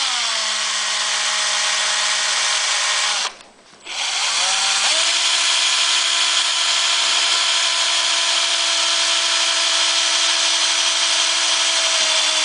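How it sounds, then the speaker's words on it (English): A loud power drill whines steadily for most of the stretch, drilling a 3/16 hole in a panel, cutting out briefly near the start before spinning back up and running on without pause. "I'm going to mark it at that location to drill my 3/16 hole."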